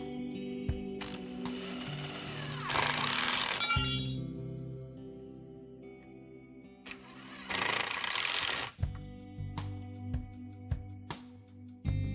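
A cordless driver sinks screws into a 2x4 wooden outdoor bench in two loud bursts of whirring, each a couple of seconds long, with mechanical clicks and handling noises between them.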